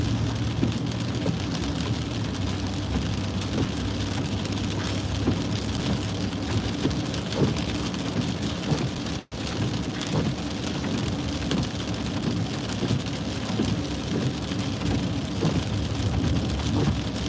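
Heavy rain pours steadily outdoors during a storm in Southwest Florida, a dense, continuous hiss with no voices over it.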